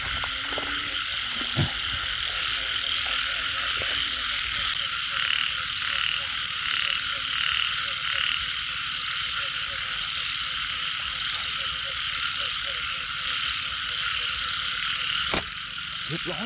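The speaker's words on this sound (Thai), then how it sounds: "เสียงกบร้องลั่นเลยท่านผู้ชม" Loud, dense chorus of frogs croaking continuously after rain in a Thai rice-field setting, a steady wall of calls with a few sharp knocks and brief speech-like sounds mixed in.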